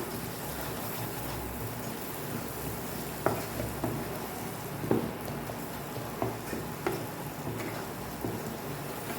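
Mushroom masala sautéing in a pan, a steady low sizzle with occasional sharp clinks of a spoon stirring against the metal, close and fairly quiet, no voices.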